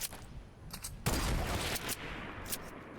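Gunfire in a Fortnite match, a burst of sharp shots cracking in and a loud volley after a second that rings out, followed by a few fainter distant pops.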